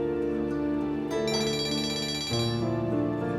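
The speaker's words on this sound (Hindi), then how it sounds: "मम्मी का फोन आ रहा है" A phone ringtone plays in a domestic drama scene, a steady electronic melody with sustained tonal notes that shifts pitch partway through, loud and alone with no talking.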